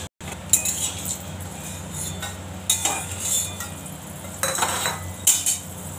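Boiled potatoes being mashed for aloo bharta, with irregular bursts of squishing and scraping and occasional utensil clinks against the bowl, close and fairly quiet.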